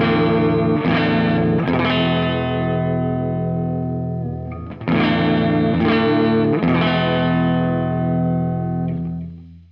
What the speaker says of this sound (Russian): как звучит гитара с оборванной струной.